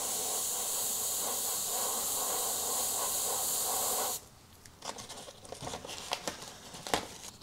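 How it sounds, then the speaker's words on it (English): An airbrush sprays black paint over a template in a loud, steady close hiss for about four seconds, then cuts off, leaving quieter handling clicks and rustles. "And then it's just as easy as spraying straight over it."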